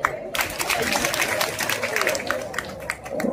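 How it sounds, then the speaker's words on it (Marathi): An audience at a school event breaks into a burst of dense, overlapping clapping that stays fairly even throughout, with some crowd noise mixed in. "त्याच्यासाठी अर्ध्या टाळ्या वाजव."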